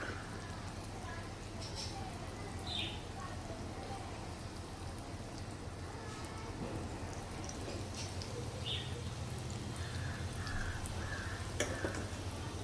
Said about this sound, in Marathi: मीडियम फ्लेमवर आपल्याला तळून घ्यायचे आहेत